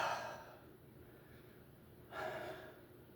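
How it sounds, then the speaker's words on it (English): Heavy, winded breathing after lightsaber training: two loud gasping breaths close to the microphone, about two seconds apart, with quiet pauses between them and no speech. "Yes, I am out of breath."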